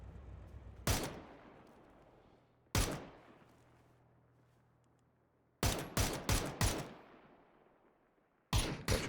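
PUBG gunfire in esports scrims: loud sharp rifle shots crack in bursts, a single shot, then another, then a rapid cluster of four or five, and a final pair, each trailing off into echoing reverb.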